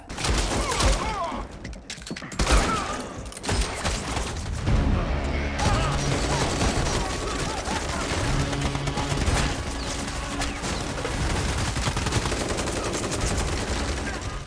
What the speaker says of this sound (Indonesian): Dentuman tembakan bergema di sepanjang kereta